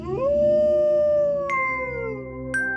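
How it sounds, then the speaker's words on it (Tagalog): A mountain dog lets out an eerie, drawn-out howl that rises and wavers, loud and close, with no talking over it, set as a sound effect in a comic Tagalog horror story. "Biglang umalingaw-ngaw ang nakapangingilabot na alulong ng isang asong bundok."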